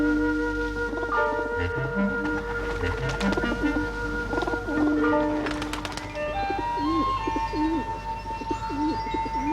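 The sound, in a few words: pigeons cooing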